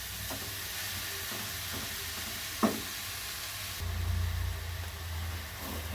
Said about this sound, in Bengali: ঘি দিয়ে গাজরটা ভাজলে গাজরের কাঁচা গন্ধটাও চলে যাবে।